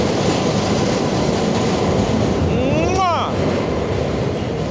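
A train rolls past in a New York City street setting, its steady rumble and clatter loud and continuous, with a brief squeal of wheels or brakes near the middle.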